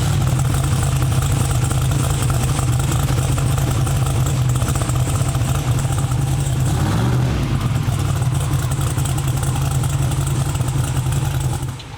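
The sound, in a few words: turbo SML engine starting, idling and revving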